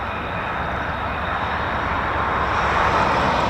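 A pair of F-35B stealth jets passes overhead as a steady, loud broadband jet roar that swells gradually over a few seconds.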